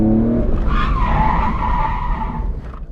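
A drift car's tires squeal and skid loudly across pavement for about two and a half seconds, over a revving engine rumble that fades as the slide ends.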